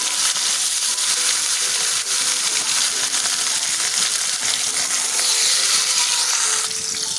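Fish frying in oil in a kadai over a medium gas flame, a dense, steady hiss of sizzling that stays loud and even throughout, with no talk.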